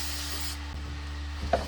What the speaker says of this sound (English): This is just Parts Master brake cleaner.